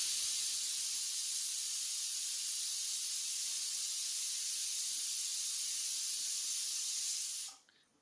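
A pressure cooker vents a steady, loud hiss of escaping steam while mutton kudal kulambu cooks, continuing unbroken for several seconds before cutting off abruptly near the end.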